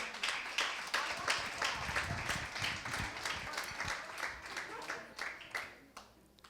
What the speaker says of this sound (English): All right, you can clap it up.